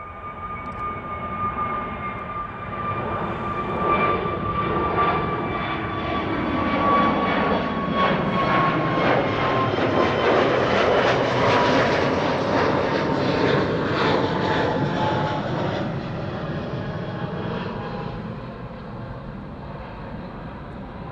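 An Airbus A321neoXLR jet, four years old, departs Amsterdam Schiphol with a sustained engine roar that swells to a broad peak midway and slowly fades as it climbs away, steady and moderately distant.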